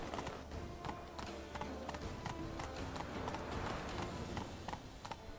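Roach, the horse in The Witcher 3 video game, gallops with fast, steady clip-clopping hooves over a constant background of ambient sound, close and continuous the whole time.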